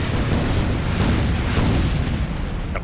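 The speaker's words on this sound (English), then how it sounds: "Kaboom. And this is why explosives are good on this mission." An explosion in XCOM: Enemy Unknown, a loud, sustained booming roar that rumbles heavily and stays dense for several seconds, like a large blast or airstrike.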